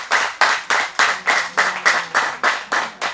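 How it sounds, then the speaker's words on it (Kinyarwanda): An audience claps in unison for the mayor at a youth centre event, about eleven loud, evenly spaced rhythmic claps heard up close. "nimumfashe tumuhe amashyi tumushimira"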